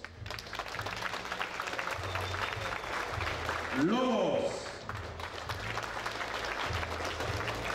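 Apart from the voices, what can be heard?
applause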